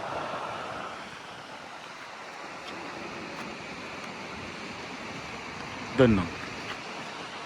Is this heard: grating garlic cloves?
no